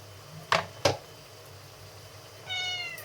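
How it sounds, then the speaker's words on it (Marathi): A cat is offered small pieces of paneer in a home kitchen. Two sharp taps come first, then one clear, fairly close meow near the end, with no talking. "माऊला देऊया पनीर"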